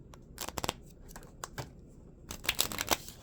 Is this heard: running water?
no